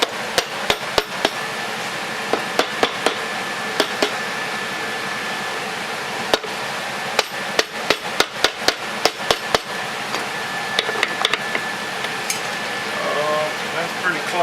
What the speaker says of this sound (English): Tap it with a hammer a little bit.